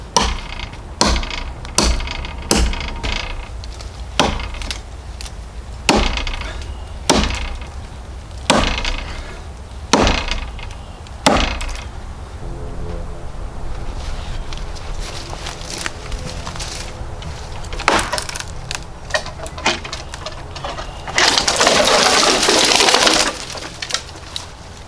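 A Husqvarna 26-inch multipurpose forest axe chops into a tree outdoors, a string of sharp, evenly spaced blows early on, then scattered strikes and a final crackling, rushing crash as the tree comes down.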